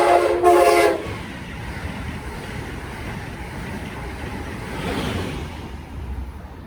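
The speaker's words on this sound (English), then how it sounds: "Coming up next is a southbound Amtrak Acela Express heading for Washington Union Station." Southbound Amtrak Acela Express passenger train at trackside in New Jersey, opening with a short loud horn blast, then a sustained rushing roar of cars passing close by, swelling again near the end.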